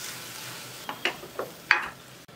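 Garlic chutney being briefly sautéed in a pan, giving a faint sizzle with a few quick spattering pops and scrapes from stirring over a low hiss.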